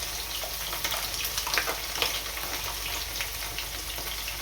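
Chopped coriander frying in a pan for chicken biryani cooked in a pressure cooker, giving a steady, close hiss of sizzling oil with faint stirring scrapes throughout.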